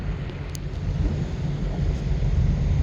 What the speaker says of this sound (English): This is where the wind blows.